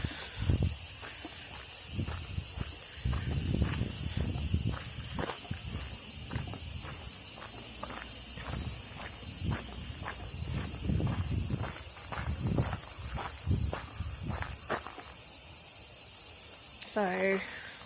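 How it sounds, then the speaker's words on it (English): Summer cicadas and other insects near a beach in Japan keep up a loud, unbroken high buzzing drone, with footsteps and rustling moving beneath it throughout. "I hope you can hear me over all the summer bugs and cicadas"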